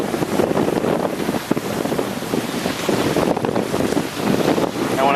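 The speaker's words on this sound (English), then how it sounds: "And the wind's about 20 knots, waves are sometimes 12 feet" Strong wind of about 20 knots roars across the microphone aboard a sailing boat in open sea with waves up to 12 feet, a loud continuous rush with water sloshing, steady throughout.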